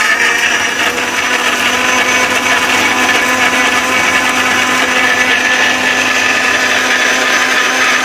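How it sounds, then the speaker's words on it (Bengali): A powerful 1200-watt blender runs at full speed, a loud, steady high-pitched whir and grinding roar that continues unbroken, with no voices. "এটা হচ্ছে বারোশো ওয়াট ব্লেন্ডার ভাই দেখেন মাত্র তিরিশ সেকেন্ডে ব্লেন্ডারের কাজ কমপ্লিট করে দেখাবে"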